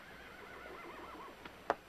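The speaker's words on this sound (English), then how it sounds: "Take good care of this horse, amigo." A horse gives a faint, wavering whinny, followed by a few soft hoof clicks.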